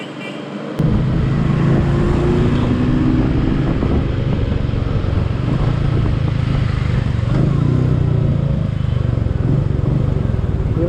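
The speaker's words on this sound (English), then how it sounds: "Even the exhaust note of this vehicle is smooth." A Royal Enfield Meteor 350 motorcycle fires into a steady, smooth exhaust thrum while being ridden. The engine note is loud and close and holds an even pitch throughout.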